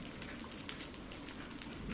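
Soft, steady rain patters on a surface in a quiet, faint ambience without any voices or other sounds.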